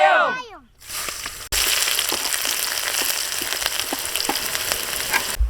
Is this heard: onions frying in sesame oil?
yes